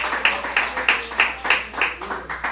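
A church congregation claps along in a steady, fast rhythm during an evening worship service, producing sharp, evenly spaced bursts of applause that fill the room.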